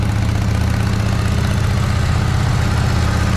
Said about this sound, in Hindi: तो गाइस अभी जो है बाइक जो है वो वार्म अप हो रही है